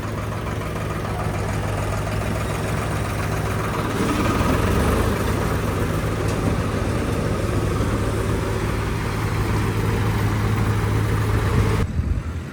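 A tractor engine runs steadily on a farm during floor-laying work, a loud, constant low rumble with little change for about twelve seconds.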